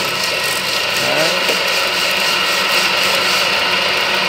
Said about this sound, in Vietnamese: Đây là con động cơ 22 kW, tốc độ 900 vòng phút.